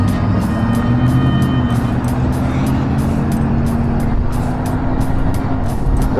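Steady whine of a 72v Revv1 electric dirt bike's direct drive hub motor riding on a street, continuous and close with road and wind noise, accompanied by rhythmic clicking.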